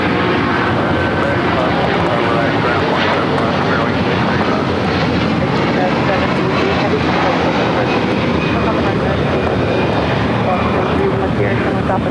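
An Airbus A330 airliner at LAX with loud, continuous jet engine roar close by, holding steady across the whole stretch, with people talking underneath.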